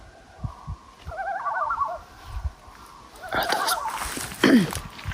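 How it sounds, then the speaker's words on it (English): Strange warbling, wavering bird calls in bursts, some nearby and loud, others fainter, with a low gobbling call near the end. "Are those birds? They sound so possessed."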